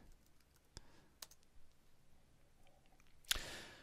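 Keys tapping on a computer keyboard while entering a date shortcut, a few sparse, soft clicks spread out and faint, ending in one sharper, louder keystroke near the finish.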